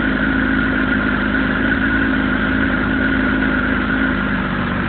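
A 2007 Kawasaki ZX10R sports bike idles steadily after a cold start, a close, even mid-pitched engine drone with a faint whine and no variation throughout.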